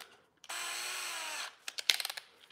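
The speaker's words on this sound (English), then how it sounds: "Maybe if I get my drill bit centered." A power drill whirs steadily for about a second as it bores a hole while T25 truck mirrors are fitted, then stops, followed by a few sharp clicks and taps up close.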